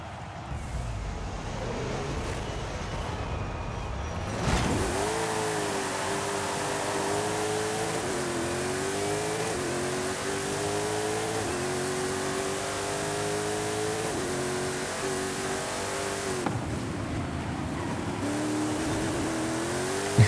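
Mosler GT3 race car in Forza Horizon 5, engine loud and close throughout, revving up through a series of rising gear pulls with brief dips at shifts, on a circuit sprint with hairpins, no voices.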